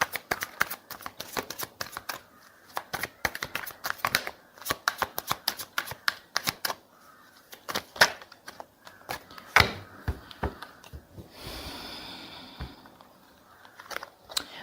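Tarot cards shuffled by hand in rapid, papery riffling bursts that come and go, fairly close and clear, with brief pauses between runs and no talking.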